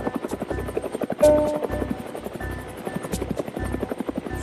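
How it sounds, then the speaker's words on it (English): Military helicopter on a UN peacekeeping mission in the Central African Republic, a steady, even rotor chop that holds throughout at moderate distance. "Attack helicopters and other aircrafts for tactical operations as well as for personnel and logistical movement"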